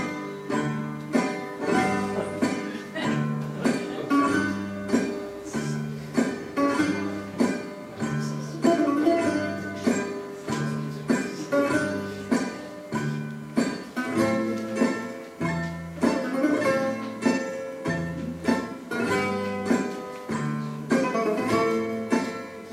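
Greek dance music, a famous popular Greek tune, plays loud and continuous with a steady rhythmic pulse of plucked strings and bass notes throughout, no voices over it.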